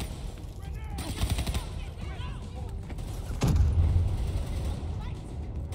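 Gunfire in a Call of Duty match: a dense, steady roar of shots and game noise with a rapid burst of cracks near the start and a heavy, booming shot midway, while voices murmur underneath.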